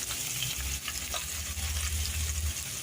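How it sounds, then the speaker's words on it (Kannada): Onions frying in a pan over low heat in a home kitchen, a steady close sizzle with soft crackle running throughout, no voices. "ಉರಿ ಕಡಿಮೆಲೆ ಮಾಡ್ಕೊಬೇಕು ಇಲ್ಲಾಂದರೆ ಗೊತ್ತಲ್ಲ ಸೀದೋಗ್ಬಿಡೋದು ಈರುಳ್ಳಿ ಹಾಕ್ತಾನೆ ಮಾಡ್ಬೋದು ಈರುಳ್ಳಿ ಹಾಕಿದ್ರೆ ಚೆನ್ನಾಗಿರುತ್ತೆ ಅಂತ ನಾನು ಈರುಳ್ಳಿ ಹಾಕ್ತೀನಿ"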